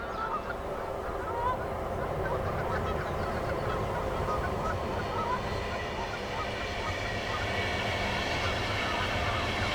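A steady rumble of a train passing beneath honking geese, the noise holding fairly constant and moderately loud throughout.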